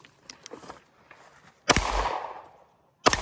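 Rifle shots ring out at an outdoor run-and-gun shooting competition. Two sharp reports sound about a second apart after quieter handling noises, and each loud crack is followed by a long echoing tail.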